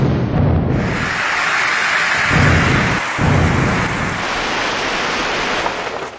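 Rain falls with strong winds and thunder over towns in Punjab, Pakistan, a loud, dense wash of broadband noise with deep rumbling swells that stays heavy throughout.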